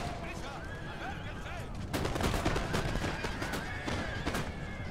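Massed musket volleys crackle through a battle in Empire: Total War, with dense overlapping shots from about two seconds onward over a constant roar of combat, and someone talking over the din.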